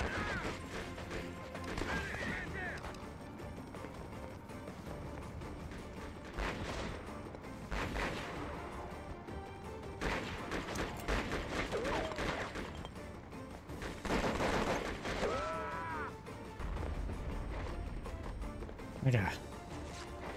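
Enemy gunfire in the war game Conflict: Desert Storm 2 during a street battle: scattered shots, bursts and impacts, loud in places, heard under a player's frequent talking.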